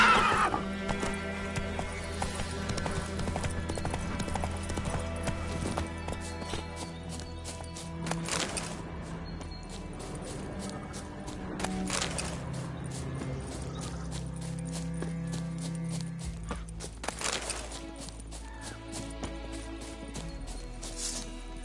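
A horse in The Witcher 3 neighs and whinnies over steady galloping hoofbeats, with game music and ambient sound layered throughout; a few loud whinny bursts stand out near and clear against the rolling clip-clop.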